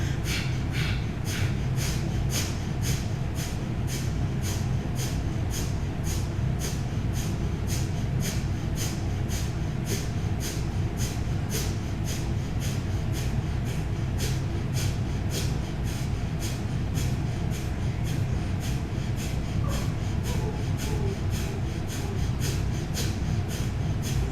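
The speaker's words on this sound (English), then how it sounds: "close your mouth and continue with breath of fire" Rapid breath of fire breathing through the nose in Kundalini yoga, a steady fast train of short, sharp nasal puffs repeating evenly for the whole stretch, close and continuous with no talk.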